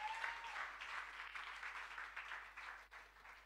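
A church congregation applauds together, a steady wash of clapping heard at a moderate distance and fairly faint, lasting a few seconds without a break.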